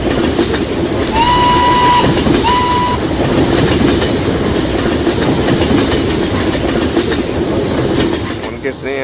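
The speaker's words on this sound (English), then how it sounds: "Train, here it comes." A video game train on the Protostokvashino farm map rumbles past with steady clickety-clack over the rails, sounding two short horn blasts early on, loud and continuous throughout.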